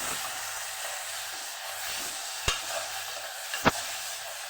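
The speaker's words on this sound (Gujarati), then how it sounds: "અહીંયા આપણે ટમેટા પણ ઉમેરી દઈશું સાથે મસ્ત એવું આપણે બધું સાતડી લેવાનું છે" Tomatoes sautéing in a pan for Kathiyawadi brinjal and potato curry, a soft steady sizzle and hiss up close, with two sharp clicks of a utensil against the pan late on.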